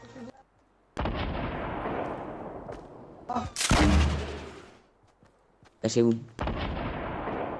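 Grenade exploding in the air during a Fortnite battle royale match, heard as loud booming blasts and bursts of gunfire in quick succession, with a player's voice briefly over the game sound.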